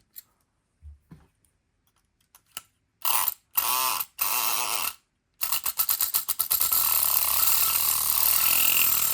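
An electric pick gun, the Multipick Kronos, works a pin-tumbler lock with security pins: several short bursts of loud mechanical buzzing at first, then a long continuous rattling snap that runs close-up to the end.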